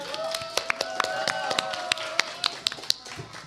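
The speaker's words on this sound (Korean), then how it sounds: "박수 크게." A small audience at a youth storytelling festival claps after a talk, a sparse run of distinct, separate hand claps rather than a dense roar, fairly close and brief.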